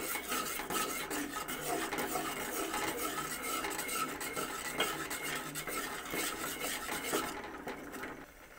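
Thickened milk with sugar is stirred in a pan, a soft continuous rasping scrape of the spoon against the bottom, fairly quiet and steady, easing off at the very end.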